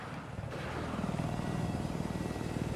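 A transport helicopter in a Battlefield-style video game on the Golmud Railway map, its steady rotor thrum and engine whine loud and close throughout, with no talk.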